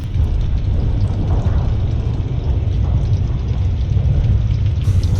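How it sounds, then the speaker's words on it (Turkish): A deep, continuous rumbling roar with a heavy low-end body, rolling steadily like distant thunder, built from a slowed-down recording of rattling metal plates. "yavaşlatmak frekansını düşürdüğü için daha bas, daha tok bir sese dönüştü. Tıpkı gök gürültüsü gibi"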